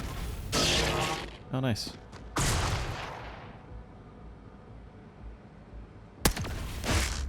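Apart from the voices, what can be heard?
shotgun gunfire in the video game Xenonauts 2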